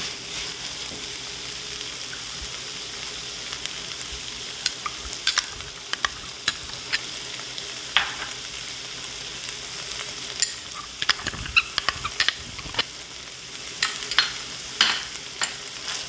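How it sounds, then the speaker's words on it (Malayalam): Spicy Kerala-style pasta masala with chili sauce and tomato sauce sautéing in a pan: a steady low sizzle with irregular scraping stirs of a spatula that grow busier toward the end. "ഇതിൻ്റെ പച്ചമണം മാറുന്നത് വരെ നന്നായി ഒന്ന് വഴറ്റിയെടുക്കാം"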